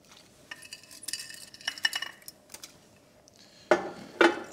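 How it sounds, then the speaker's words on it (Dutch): A utensil stirs pasta in a cooking pot, giving a few irregular scraping and clinking strokes with a couple of louder knocks against the pot near the end, close and without talk. "Even roeren."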